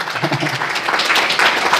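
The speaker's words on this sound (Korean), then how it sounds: "박수 한번 쳐주세요." A church congregation applauds at a North Korea mission school gathering, many hands clapping in a loud, continuous, roomy wash that swells slightly toward the end.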